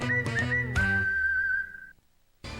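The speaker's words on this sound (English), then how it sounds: "All you have to do is whistle." A clear whistle in a PC Richard & Son radio commercial: a few short rising chirps followed by one long sustained tone lasting about a second, alone and close, then silence and a brief burst of the next sound.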